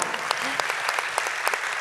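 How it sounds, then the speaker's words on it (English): Steady hand clapping from an audience at a Bharatanatyam arangetram, a brief burst of moderate applause with individual claps audible, heard from a short distance. "a big round of applause for the musical team today"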